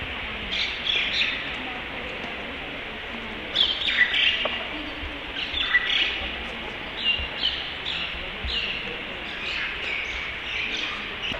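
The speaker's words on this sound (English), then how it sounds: "all you can hear is the birds behind us." Many small birds chirp and twitter continuously in the background in Samarkand, Uzbekistan, with scattered brighter calls over a soft ambient hum.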